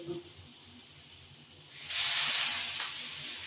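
Water poured into a hot pan of frying fish with potato for a curry, giving a sudden loud sizzling hiss that swells and then settles into a steady softer sizzle.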